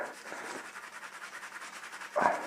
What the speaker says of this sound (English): So just scrub this all around.